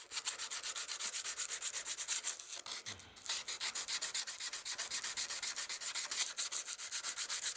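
A curved woodworking scraper has its burr sanded off with 100 grit abrasive. Steady, close rubbing strokes repeat in a regular rhythm and are heard alone.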